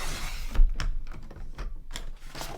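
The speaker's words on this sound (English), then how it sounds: "I'm just going to bring in a piece of a white cardstock, and I'm going to cut this at 3 inches" White cardstock being cut into a 3-inch strip for a scrapbook border, a handful of crisp, close clicks and snips with short pauses between them and no talking.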